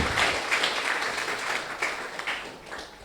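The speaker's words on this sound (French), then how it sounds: "Acclamons pour le Saint-Esprit" Church congregation applauding and cheering in praise during a French-language worship service, a steady wash of clapping with a few raised voices that holds for about three seconds.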